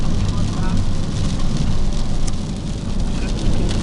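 Steady rain falls in the Carpathian mountains with a dense, hissing patter throughout, a continuous wash of sound with no breaks.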